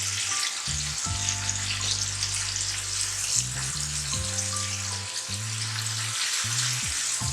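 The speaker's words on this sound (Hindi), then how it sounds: "सब चीज़ों को अच्छी तरह भून लेंगे" Spices, crushed red chili and ajwain, sizzle and fry in a pan for a fish karahi, a constant bright hiss from start to finish. A simple musical tune plays underneath, and no voices are heard.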